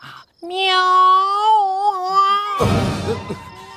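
A cat lets out one long, drawn-out wailing meow that wavers in pitch, followed by a noisy, rough burst of sound in what seems to be a comedic night scene.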